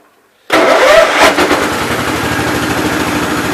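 A 1987 Gravely 12G walk-behind tractor engine cranks and fires after a moment of silence, catching quickly into a loud, steady, close-up idle with a rapid chugging pulse that continues to the end.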